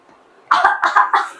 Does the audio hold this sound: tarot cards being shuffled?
no